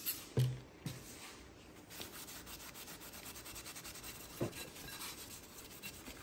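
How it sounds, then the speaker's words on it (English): A glazed flywheel from a Porsche Boxster 986 gets cleaned with brake cleaner, giving a quiet, steady scrubbing rub with a few soft knocks and clunks along the way. "We're gonna clean it with brake cleaner."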